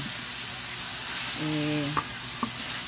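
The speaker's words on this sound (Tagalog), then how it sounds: "sinusutay ko na yung karne" Meat sautéing in a pan for ginisang sayote, a steady close frying sizzle that runs throughout, with a brief tonal hum in the middle and two light clicks of a utensil near the end.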